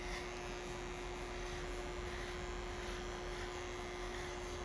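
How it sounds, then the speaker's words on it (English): Small electric hair trimmers buzzing steadily as they cut a woman's neckline during a pixie haircut, a close, even electric hum with no talking. "we're gonna take the little trimmers and do her neckline"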